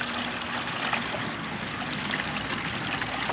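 Compost tea made with rabbit fertilizer pours from a 2.5-gallon watering can onto garden plants, giving a loud, continuous, even splashing rush of water that runs unbroken throughout.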